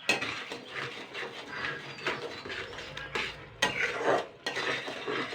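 Gobindobhog rice cooking with sugar in a pot is stirred with a spoon, giving uneven scraping and clinking strokes against the pot at moderate, fairly quiet level, with a faint simmer underneath.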